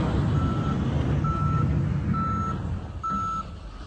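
Steady reversing beeps from a snow-clearing bulldozer, four evenly spaced electronic tones over a loud, rumbling diesel engine.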